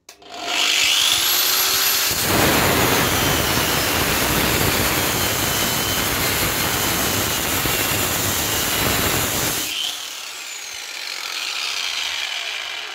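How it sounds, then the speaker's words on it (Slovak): A Parkside angle grinder runs at its fourth speed setting and grinds with a loud, rough, sustained rasp under pressure for several seconds, then lifts off and is left whining freely as it spins down. "Na tejto 4. rýchlosti Flexa zvláda už aj zaťaženie a taký silnejší prítlak"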